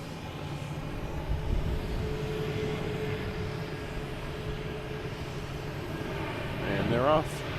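A departing airliner at Boston Logan Airport gives off a distant, steady engine rumble under faint talk, with a brief rising whine near the end.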